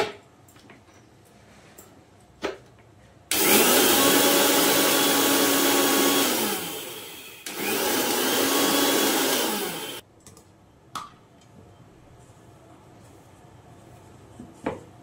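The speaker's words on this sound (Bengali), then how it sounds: "আগে পোস্তটা মিক্সিতে একটু ঘুরিয়ে নিই" Electric mixer grinder whirring loudly as it grinds poppy seeds, two steady bursts of about four and three seconds separated by a short pause, with quiet kitchen clatter before and after.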